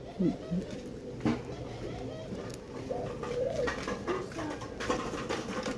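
Soft, low dove coos repeat a few times against steady outdoor background noise, with people chatting nearby.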